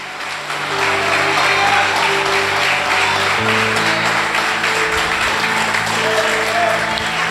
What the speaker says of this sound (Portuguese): Alguém dá um forte aplauso àquele que vive e reina.